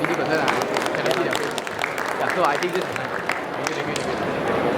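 A panel-discussion audience claps for a guest, a loud, busy spatter of applause mixed with chatter and voices, lasting several seconds without a clear break.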